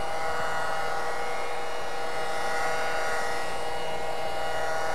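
A rotary polishing machine buffs and cuts along a seam on a car hood, giving a steady, even whine with a broad hiss that holds at one level throughout, close and alone.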